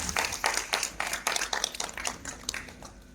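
Audience applause at a rural journalists' association convention and award ceremony, a scattered, fairly faint burst of clapping with uneven rhythm that swells and tapers over a few seconds.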